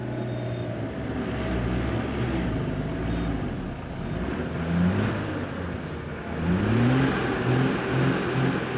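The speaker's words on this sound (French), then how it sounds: "Les pneus de son camion sont usés et ses roues patinent." A truck with worn tires on the slippery Leh-Manali highway in India revs its engine as its wheels spin, a steady moderate drone that surges in rising pulses toward the end.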